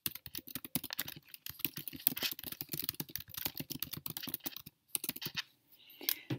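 Rapid keystrokes clatter on a computer keyboard while a reply is typed, an uneven run of close, crisp clicks with a brief pause near the end before typing resumes.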